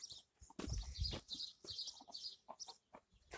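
A large rooster and hens cluck and call in a farmyard, a run of short, bright, broken clucks in quick bursts, fairly near, with a few softer rustles between.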